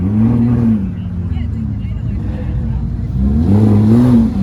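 A Porsche 911 GT3 RS engine revs loudly nearby, the pitch rising and falling in a couple of surges, with a low rumble between.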